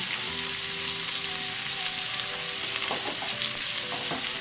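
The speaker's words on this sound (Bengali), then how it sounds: "এবার এটা একটু ভাজতে থাকবো" Chili chicken frying in a pan with sugar and salt, a dense, steady, close sizzle of hot oil with a few stirring scrapes near the end, no talking.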